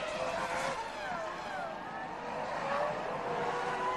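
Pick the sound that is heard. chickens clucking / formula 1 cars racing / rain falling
formula 1 cars racing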